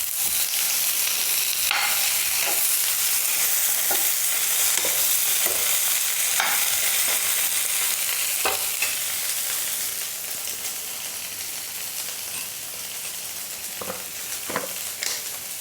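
Large pieces of boiled potato with chaat masala and salt sizzle in a pan while a spoon stirs and scrapes them in irregular strokes, and the frying grows slightly quieter toward the end.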